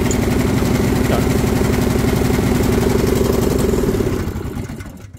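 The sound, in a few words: snowblower engine idling after startup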